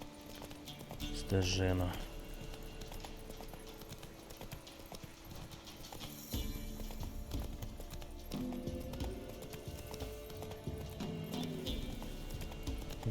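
Roach the horse's hooves clip-clop in a steady trotting rhythm in The Witcher 3, with a brief whinny early on, under someone talking and game music.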